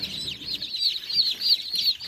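Newly hatched chicks from an incubator peep rapidly in a high, continuous chorus, many small voices chirping close by.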